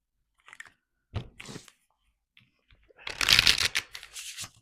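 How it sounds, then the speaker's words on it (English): A deck of tarot cards is shuffled in a few quick riffling bursts with short pauses between them, close by, with no voices. "Shuffle 3 times."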